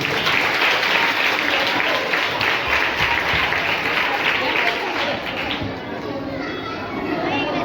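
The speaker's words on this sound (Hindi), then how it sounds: "आइए हम सचिन भाई के लिए जोर से ताली दें।" Loud, sustained clapping from a church congregation at a birthday celebration, a dense continuous roar of hands with children's voices and crowd noise mixed in throughout.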